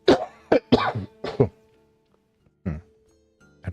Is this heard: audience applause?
no